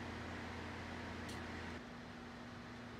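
An outdoor Goodman heat pump running in heat mode gives off a steady low mechanical hum with a tonal drone and fan whoosh. Partway through, part of the drone drops away while the fan noise carries on, fairly quiet and close.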